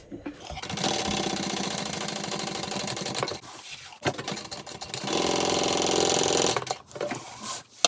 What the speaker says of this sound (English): I'm going to chain stitch these